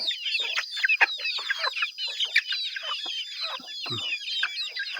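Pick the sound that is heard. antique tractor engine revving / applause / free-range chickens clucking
free-range chickens clucking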